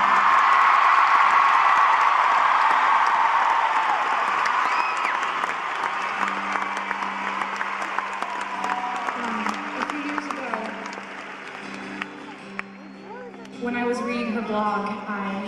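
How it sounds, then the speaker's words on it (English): An audience gives Maya a round of applause: full, dense clapping at first, then thinning into scattered claps with voices talking over it. "I would like for you to give her a round of applause,"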